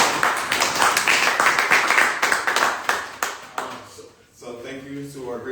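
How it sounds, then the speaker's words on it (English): A small seminar audience gives a round of applause, individual hand claps audible in a scattered patter that thins out, followed by a voice beginning to speak near the end. "Can we get a round of applause?"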